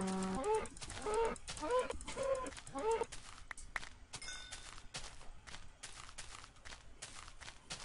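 Cows and farm animals from the Happy Wheels video game low and moo over a busy, clattering game soundtrack, with repeated lowing calls early on and dense clicks and thumps throughout.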